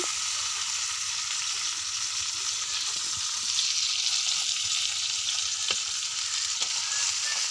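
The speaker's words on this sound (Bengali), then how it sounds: "এখানে চাল কুমড়ো পাতা দিয়ে শুটকিটা ভালো করে ভেজে নিব।" Dried fish frying in oil with ash gourd leaves, a loud continuous hiss of sizzling oil with a few faint ticks and scrapes of stirring, close and steady, no voices.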